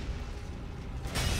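A sudden broad burst of explosion noise in LEGO Batman 2: DC Super Heroes near the end, loud and close, following a steady low rumble of game ambience.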